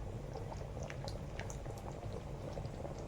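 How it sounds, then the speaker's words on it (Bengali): A pot of fish curry bubbles softly on the stove, a low steady simmer with small pops and gurgles, fairly quiet and close, with no talking. "তরকারিটা মাছ দিয়ে ফুটে গেছে"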